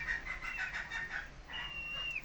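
Chickens and a rooster in a backyard coop give faint, quick clucking calls, followed by one longer drawn-out squawk, heard from a little distance.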